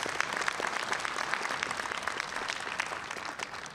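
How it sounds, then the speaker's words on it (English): Steady applause from an audience for a graduate at a business school graduation ceremony, a moderate, even patter of many hands clapping at a distance. "Let's give him a round of applause."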